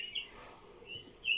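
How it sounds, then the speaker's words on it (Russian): Small birds sing in a forest beside a hunting tent in the Voronezh countryside, giving a few bright, high chirps and short trills at a moderate distance over a quiet outdoor background, with no one speaking. "Так хорошо, тут птички поют."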